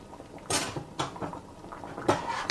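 Spoon stirring lima beans in a cooking pot: a few quiet scraping clinks at irregular intervals, soft and close, with no talk.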